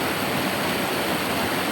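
Full, steady roar of rushing river water, close and loud, a dense unbroken wash of sound with no voices.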